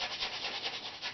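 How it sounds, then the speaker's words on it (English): A brush scrubs linseed oil into dried acrylic paint. The rubbing is soft and close, with rhythmic back-and-forth swishes and no voices. "I'm just putting some on this brush and I'm just going to put a small amount of linseed oil over this"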